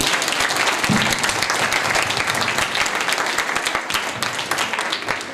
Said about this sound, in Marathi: एक टाळी प्रत्येकानं मीराताईंसाठी वाजवलीच पाहिजे.